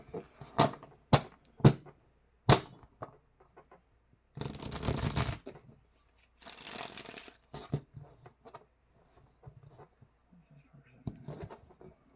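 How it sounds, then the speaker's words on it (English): Tarot cards are shuffled and handled close up, with sharp snaps, two longer riffling bursts and soft shuffling in between. "So after I get done with all this shuffling"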